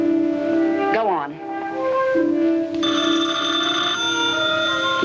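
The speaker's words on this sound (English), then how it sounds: "You, answer the phone." An old-fashioned telephone bell rings in a tense scene inside a house, a steady metallic ring over speech that breaks off as someone speaks.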